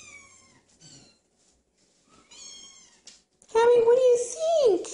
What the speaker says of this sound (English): Max, bring all the kitties in here, please